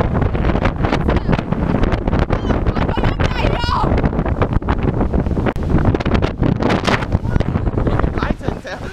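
Strong wind buffets a boat and rumbles against the microphone continuously, with a person talking in the middle of the gusts.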